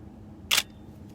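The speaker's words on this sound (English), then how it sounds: "Now I'm going to take the shot again." A camera shutter fires once, a single crisp click standing alone against a quiet room during an exposure demonstration with the aperture set to f4.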